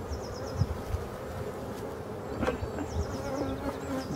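Honeybees of a forest apiary buzzing around an open hive during spring super placement: a steady, moderately faint swarm hum with individual bees droning past, continuous throughout with occasional light clicks.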